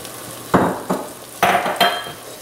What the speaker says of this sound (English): We'll let that simmer and cook that wine down some right there in them onions.